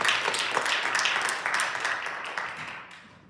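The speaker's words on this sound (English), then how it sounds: "I'd love everyone to give themselves a round of applause for this awesome discussion" Audience applause at the close of a community discussion event against a methane gas plant, a dense burst of clapping from a crowd in a room that gradually fades out.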